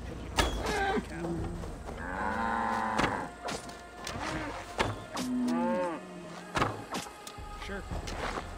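Cattle in Assassin's Creed Valhalla give several long, drawn-out moos close by, separated by sharp thuds and clatter, while a faint hum runs underneath.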